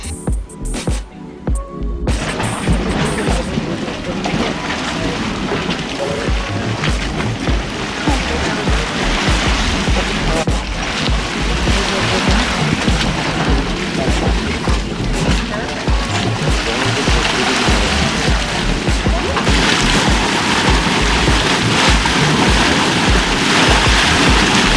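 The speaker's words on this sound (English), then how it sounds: "It was neat to see the mud bubbling" Continuous wet bubbling and spattering of a mud pot churning in Yellowstone National Park, with a steady rain-like hiss throughout at fairly loud level.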